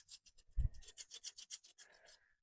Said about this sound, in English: I'm going to take off the little Made in China sticker